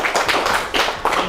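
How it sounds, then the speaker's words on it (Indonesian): A short burst of audience clapping in a classroom talk about forests, the close, uneven claps coming in two quick surges with no voices over them. "Ya, tepuk tangan."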